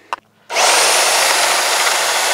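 A power drill, its bit lubricated with WD-40 and smoking, spins up abruptly after a short quiet moment and then whines at a loud, constant, close-up pitch until the end.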